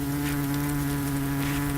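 Wasps buzzing inside a wasp-infested house, a steady close drone with strong sustained hum that holds level throughout with no talk.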